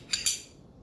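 A pistol barrel slides back into the gun during cleaning, giving two quick, close metallic clicks in rapid succession followed by quiet.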